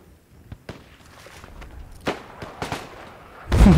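Scattered gunshots crack in the video game Project Reality on the Kokan map, a handful of sharp reports at uneven intervals, some distant and one louder burst near the end.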